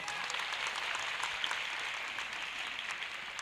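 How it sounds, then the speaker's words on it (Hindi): Congregation applause at a church sermon, a steady wash of clapping, fairly even and moderately loud throughout the short burst. "ताली मारो जोर से।"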